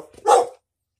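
A dog gives a single short, sharp bark after a faint whine, close and loud, then silence.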